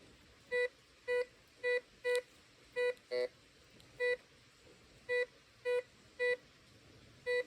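A Ricomax metal detector beeps as it sweeps over coins: short, clear electronic tones at irregular intervals, about a dozen in all, with a quiet hiss between them and no talk.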